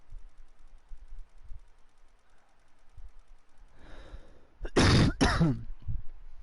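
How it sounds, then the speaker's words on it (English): After quiet shuffling, a person gives a breathy rasp, then two loud, harsh bursts of throat clearing and coughing close to the microphone. "Now I'm still coughing."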